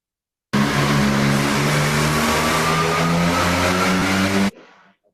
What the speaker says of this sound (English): that guy was testing the exhaust pipe and it worked